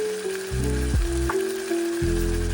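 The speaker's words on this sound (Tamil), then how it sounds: "மஞ்சள் எல்லாம் போட்டு வதக்கிட்டேன்." Chicken liver with turmeric sizzles and fries steadily in a hot pan, loud and close, with a few stirring scrapes and no talk.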